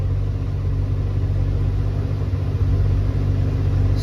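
AMC Eagle engine running steadily up close with a low, rough rumble and a slightly uneven, missing beat, no voices over it.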